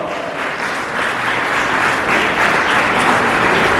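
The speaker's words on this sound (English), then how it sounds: "Let's show our appreciation for her incredible work with a huge round of applause." Steady, dense applause from an audience at a school Republic Day ceremony, loud and continuous throughout without pause.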